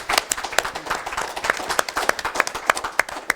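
An audience claps after a gubernatorial debate, with sharp individual hand claps in a fairly sparse, uneven rhythm from a modest crowd, close and lively throughout.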